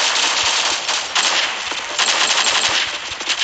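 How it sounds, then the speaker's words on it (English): Rapid automatic gunfire in the mobile shooter game Pixel Strike 3D, dense overlapping bursts of shots rattling almost continuously at close range with no pauses. "Who's shooting at me?"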